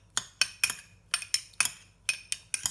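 Metal spoon clinking against a bowl while stirring crushed dried cilantro into a vegan taco filling, a rhythmic series of about ten close, sharp taps with no talk.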